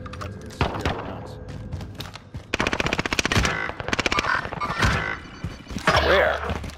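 An MP40 submachine gun firing in a video game, with rapid automatic bursts of sharp cracks, several separate strings of fire and louder close bursts in the middle, mixed with other game effects and brief voices.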